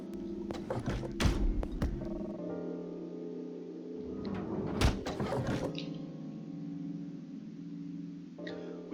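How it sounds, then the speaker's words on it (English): A heavy door grinds slowly open in the video game Zero Escape: Virtue's Last Reward, a sustained mechanical rumble with clanking thuds at its start and middle over a steady low hum. "A door at the end of the room slowly ground open."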